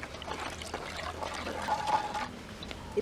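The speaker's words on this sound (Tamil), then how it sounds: "இந்த தண்ணி கொஞ்சம் சேர்க்க போகிறோம்" Water poured into a ground fish curry while cooking, a steady soft trickle and splash running throughout at close range, with faint background clatter.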